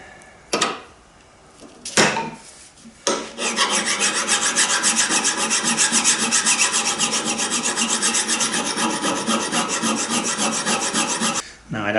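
A metal file rasps steadily across a Stanley hand plane part clamped in a vise, a few short separate strokes at first, then a long continuous run of quick, even back-and-forth scraping, close and loud.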